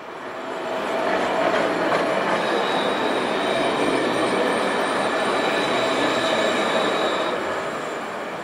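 A tram in Mulhouse rolls steadily past at close range, its wheels rumbling continuously on the rails with a faint high squeal running through the middle of the pass, and no voices are heard.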